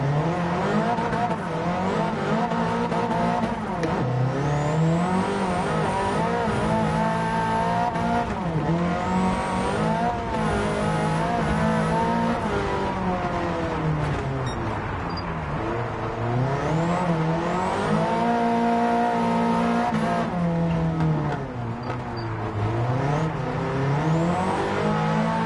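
A race car in Gran Turismo 7 slides through snowy corners, its engine droning and rising and falling in pitch with repeated revs, loud and continuous for the whole stretch.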